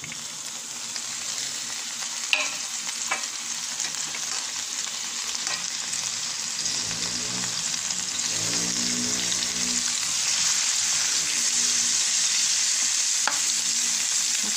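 Red onion frying in melted butter in a pan, a close, steady sizzle with a soft bubbling hiss that swells gradually and holds, with a few light clinks of stirring and no talking.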